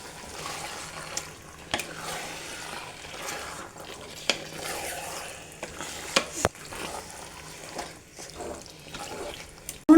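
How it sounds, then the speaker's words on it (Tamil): Chicken pieces stir-fried in a pan for hotel-style chicken biryani, with a low steady sizzle under repeated scraping and stirring clatter and a few sharp utensil knocks. "சிக்கனையும் சேர்த்து நல்லா வதக்கிக்கலாம்"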